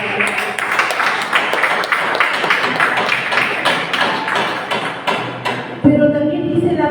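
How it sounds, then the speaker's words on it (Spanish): A church congregation claps for the Lord in a strong, even rhythm of repeated hand claps, which stop abruptly near the end. "Dame fuertes palmas al Señor"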